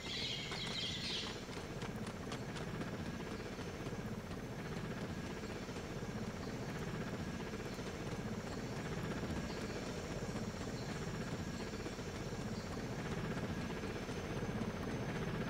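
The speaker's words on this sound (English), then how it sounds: "I hear the helicopter." A helicopter flies in the Delta Force Land Warrior video game, its rotor making a steady, dense drone that runs unbroken throughout, with no voices.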